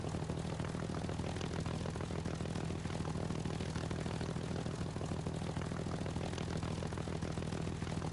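Steady propeller aircraft engine drone from War Thunder, a constant loud hum with a low harmonic tone running through the whole stretch, no voices over it.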